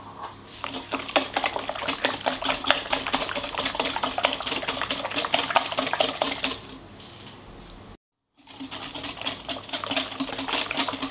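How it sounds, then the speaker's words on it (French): Cake batter with milk and sunflower oil being stirred briskly in a bowl, a rapid run of clinking, scraping utensil strokes against the dish, with a short pause before the mixing resumes. "On mélange toujours."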